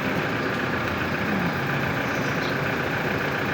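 Tricycle motorcycle engine running at a steady idle after being started, a continuous close drone with no talk over it.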